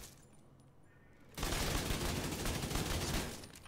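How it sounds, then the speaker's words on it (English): Rapid gunfire from a Striker build in the Division 2 shooter game erupts suddenly after a quiet second of ambient game sound, a dense continuous burst of shots that carries on to the end. "You see how fast I'm shooting?"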